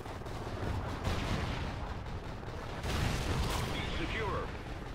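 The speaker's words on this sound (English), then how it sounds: "Friendly Trinity rocket inbound." Trinity rocket strikes land in a team-based game, a dense stretch of rumbling, crackling blasts over a steady wash of battle noise.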